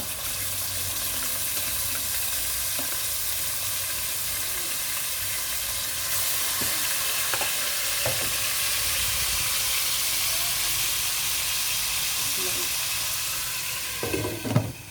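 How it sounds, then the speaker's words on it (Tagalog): Pork chops for bistek fry in oil with a loud, dense, continuous sizzle and hiss, a few faint scrapes and clicks scattered through, and a slight rise in intensity partway along. "Iprito pa ulit ng bago"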